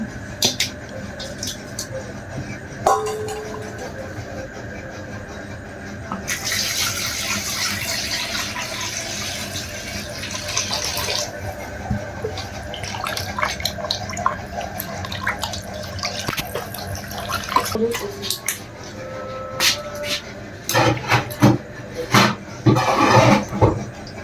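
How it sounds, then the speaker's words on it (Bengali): Cut pieces of rohu fish are washed in a kitchen, with running tap water, splashing and dripping, and a burst of sloshing and clattering handling toward the end, close by and without speech. "আমার মাছগুলো কাটা শেষ, এখন আমি ধুয়ে নেব।"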